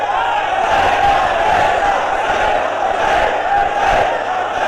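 A large crowd at a religious gathering roars the Labbaik slogan in unison, loud massed voices swelling in rhythmic waves that fill the space continuously.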